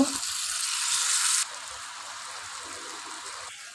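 Water spinach (kalmi shak) sautéing with potatoes in a pan gives a close, steady sizzling hiss. It is louder for the first second and a half, then settles to a quieter, continuous fry.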